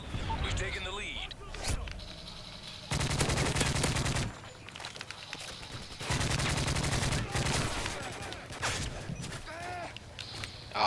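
Suppressed ACR rifle fire in a Team Deathmatch video game, heard as two sustained rapid bursts of roughly a second each, loud and close, separated by quieter in-game sounds and movement.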